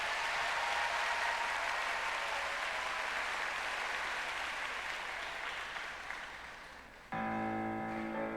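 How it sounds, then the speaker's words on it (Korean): A church congregation at a Sunday afternoon service fills the room with sustained applause that slowly thins, then gives way abruptly to a sustained musical tone at the end. "큰 박수 부탁드립니다."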